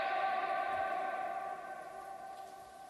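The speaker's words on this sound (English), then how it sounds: "That's probably a 500-metre echo." A sustained tone rings and slowly fades, reverberating as if echoing through a vast cave, trailing off over a few seconds.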